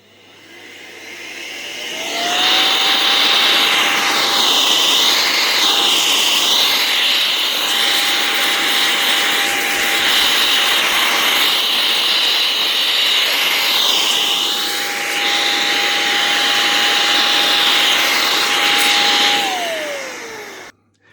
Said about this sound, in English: The air blower is only going to get a certain amount out.